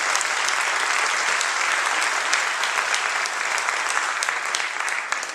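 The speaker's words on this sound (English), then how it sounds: "How about a round of applause for that?" Audience at a Leyte Dance Theater show applauding: dense, loud, sustained clapping from a large crowd, filling the space steadily before tapering slightly at the end.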